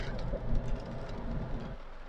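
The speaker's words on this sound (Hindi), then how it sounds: "तो बारिश तेज़ हो गई है भाई" Heavy rain falls in Makkah while stopped at a street signal, a steady broadband hiss of downpour close around with a low rumble beneath, continuous throughout.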